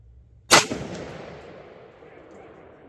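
A single sharp rifle shot cracks nearby during outdoor shooting to test a CVLIFE EagleFeather 6-24x50 scope, followed by a long decaying echo.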